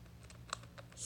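A space bar keycap being slowly wiggled off a mechanical keyboard gives a few soft, faint plastic clicks and rattles, close by and alone, ending in a brief brighter scrape.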